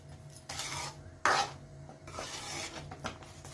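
Puran, a sweet lentil filling for puran poli, being stirred in a pan: soft, quiet scraping and rubbing strokes come in a few separate passes, one sharper scrape standing out, with no voices.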